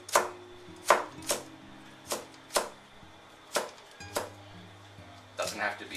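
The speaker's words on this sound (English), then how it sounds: "You can cut the carrots up julienne style" Knife chopping carrots into julienne strips on a cutting board, a series of sharp, uneven thunks close up, with a brief pause partway through.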